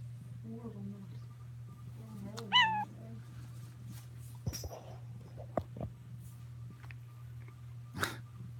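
Alabama kittens at home give a few brief, high meows in the middle, close by, over a steady low hum, with soft thumps and scattered small noises around them.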